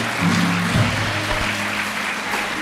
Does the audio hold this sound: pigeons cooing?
no